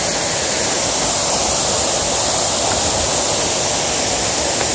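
Wright Falls in Ricketts Glen, running with a lot of water, gives a loud, continuous roar of falling water heard up close, steady and unbroken from start to finish.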